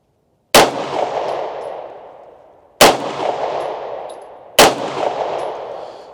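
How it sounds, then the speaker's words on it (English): Pistol shots fired at trash targets outdoors: three loud, sharp single reports spaced about two seconds apart, each followed by a long fading echo. "Both my shots were hard left misses on those, so probably off by about 4 inches."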